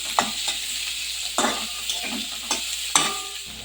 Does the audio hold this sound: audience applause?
no